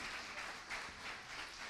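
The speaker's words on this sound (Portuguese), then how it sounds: "Pode aplaudir, gente." Church congregation applauding during a Sunday service, a brief burst of steady, even clapping from a crowd, fairly soft and without voices.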